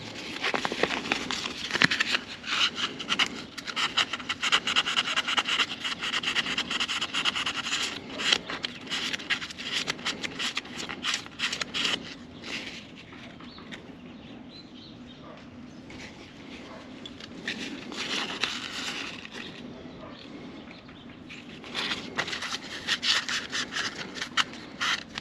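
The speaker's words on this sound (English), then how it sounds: "These could probably use a little bit of polishing on them." Carburetor float pins are polished by hand, making continuous close, soft rubbing and scraping with irregular gritty strokes. The sound is quieter through the middle, then grows busier again.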